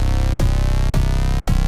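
Thick, sustained synth bass notes, loud and full, retriggered three times with brief gaps between hits.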